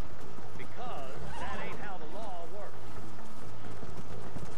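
Horse in the Red Dead Redemption video game whinnying loudly several times over rhythmic hoof clip-clop, with someone talking over it.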